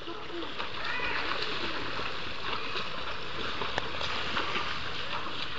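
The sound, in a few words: person swimming and splashing in water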